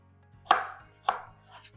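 A knife chopping cucumber on a cutting board, two sharp, close thuds about half a second apart, then a fainter third cut, with quiet in between.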